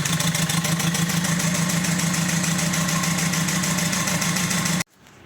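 An Opel Corsa D engine idles close by with a dead third cylinder, a loud, uneven, lumpy running note with a rhythmic knock that cuts off abruptly near the end.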